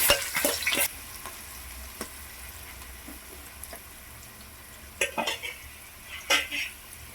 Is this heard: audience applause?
no